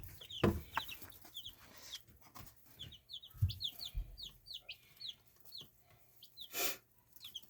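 Young chicks of a new breed peep in quick, high, thin chirps scattered over a quiet room, with a few soft bumps and rustles near the listener.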